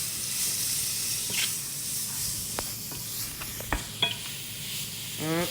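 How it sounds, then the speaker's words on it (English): Carrots sizzle in a hot pan with cumin coriander powder and salt as a utensil stirs and scrapes them, faint steady frying hiss dotted with soft clicks and scrapes. "And then give it a good stir."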